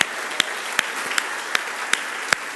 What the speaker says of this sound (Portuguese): Bota uma salva de palmas ao Senhor, irmão.